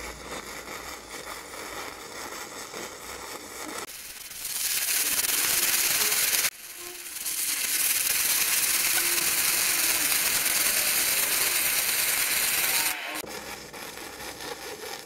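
Flux core welding of a 4mm steel plate T-joint at 60 amps with 0.8 wire, a loud steady crackling hiss running in two long stretches with a brief break between them.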